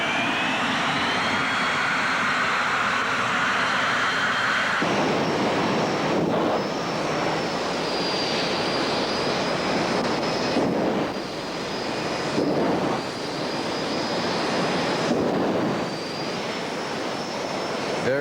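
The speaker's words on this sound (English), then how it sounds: "Colin Fellows in this jet-powered vehicle" A jet-powered drag racing car roars down the quarter-mile strip at Bug Jam, a loud, sustained jet blast with a high whine running continuously throughout.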